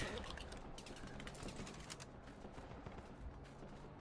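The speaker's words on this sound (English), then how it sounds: "I'm trying to dodge his fire here." Gunfire in the Running With Rifles video game, a quiet, dense run of rapid shots and bursts crackling continuously across the whole stretch, with no speech over it.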